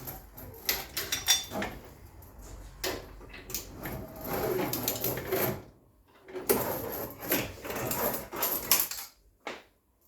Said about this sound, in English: One power steering pipe removed.